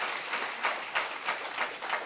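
A church congregation gives a round of applause to the Lord during a service. The clapping is loud, dense and continuous, swelling in soft waves for about two seconds.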